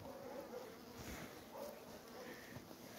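Honeybees at a beehive nucleus make a faint, steady buzz, with a quiet voice speaking over it now and then.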